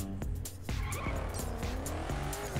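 Cars in The Crew racing game, set to a low volume, with a steady engine drone and repeated tire squeals and skids running continuously through the moment.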